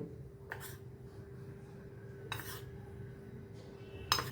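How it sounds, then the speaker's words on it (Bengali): Rice bran oil and cornflour being mixed in a bowl, with a few brief clinks and scrapes of a spoon against the dish spaced apart over a low steady background hum. "কর্নফ্লাওয়ারের সঙ্গে তেলটাকে খুব ভালো করে মিশিয়ে নেব"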